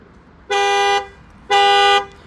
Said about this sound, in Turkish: Orijinal alarmımız bu şekilde devreye giriyor, çalışıyor arkadaşlar.